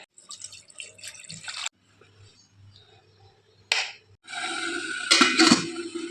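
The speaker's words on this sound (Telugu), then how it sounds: "ఇప్పుడు మళ్ళీ వాటర్ యాడ్ చేద్దాం" Water splashes and trickles in short bursts over herbs for herbal tea, with a longer rush of pouring near the end; drips and small knocks in between.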